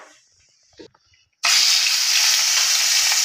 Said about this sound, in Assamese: কেৰাহীত তেল দি দিছোঁ, প্ৰথমতে ভাজি ল'ম